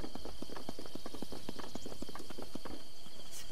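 Horse hooves clip-clop steadily while riding in the video game Zelda Breath of the Wild, an even trotting rhythm of sharp close knocks that loosens and fades out near the end.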